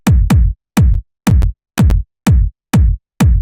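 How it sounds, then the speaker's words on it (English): Punchy, fat techno kick drum run through drum-bus processing, hitting in evenly spaced pairs of heavy thumps with short gaps between, loud and dry with no voices. "just like your standard sort of fat techno kick, got it going through a bit of drum bus."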